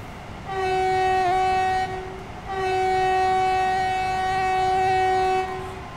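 A fast local train in the Train Sim World 4 game, climbing a gradient, sounds two long, loud horn blasts over a low running rumble, the second blast held longer.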